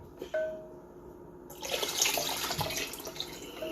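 Water pours from a tap into a pitcher to mix lavender lemonade, a steady broadband rush that starts abruptly partway through and continues loud and close, with a few drips before it.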